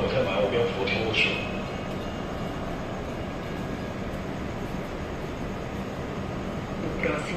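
A CNR 3000 series commuter train rumbles steadily into the platform at Santa Cruz station on the SuperVia rail line, a loud continuous roar with brief squeals at the start and end.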